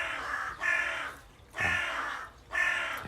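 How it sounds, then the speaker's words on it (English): Three harsh crow caws, evenly spaced about a second apart, loud and fairly close, with quiet pauses between them. "What you're hearing now is the crows."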